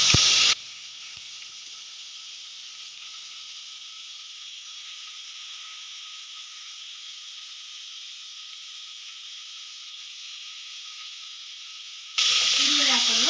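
Onions frying with spices in a pan for egg biryani make a constant close hiss and sizzle, with brief louder stirring noises at the start and end, with no talk.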